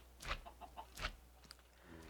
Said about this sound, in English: I believe that I heard the chickens popping a couple of eggs